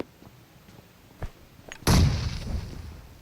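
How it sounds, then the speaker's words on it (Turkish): A grenade goes off in PUBG Mobile as one loud, close blast that rumbles down over about a second, after a few scattered distant gunshots. "Baran bombayı çekti."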